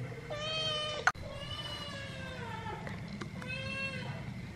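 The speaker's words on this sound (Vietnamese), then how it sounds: "Mèo đói." A hungry cat meows repeatedly in a home kitchen while crab noodle soup is being cooked, with three drawn-out, clear meows close to the microphone over a low steady background hum and one sharp knock in between.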